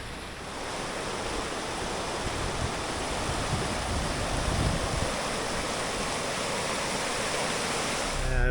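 Undercliff Falls, swollen after overnight rain, gives a dense, unbroken roar of rushing water that stays close and loud throughout, with no talking.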